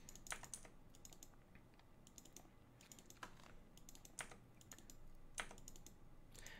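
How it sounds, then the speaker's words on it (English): Mechanical keyboard keys clacking in quick bursts as the Escape key is jammed repeatedly during a speedrun of the game Loom, sharp close taps separated by brief pauses over a faint steady background hum. "you might be able to hear my mechanical keyboard clacking as I'm jamming escape"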